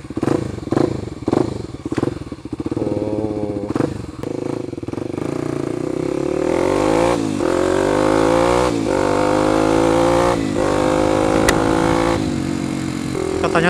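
A Kawasaki KLX 250 supermoto motorcycle engine starts with a series of sharp, loud blips, then climbs into repeated high revving sweeps close to the microphone.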